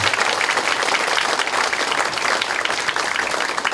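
A hall audience at a joint policy meeting for Democratic Party local-election candidates in Gwangju bursts into sustained applause, dense and even throughout with no voices over it.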